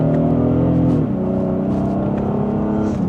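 A 2026 Honda Passport TrailSport Elite in sport mode pulls from second gear, its engine rising in a steady, loud droning hum with a brief dip as a shift occurs, heard from inside the cabin with no talking.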